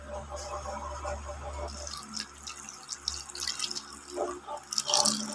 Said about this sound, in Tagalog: bubuhusan natin ng tubig